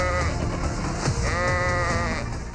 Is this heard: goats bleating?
yes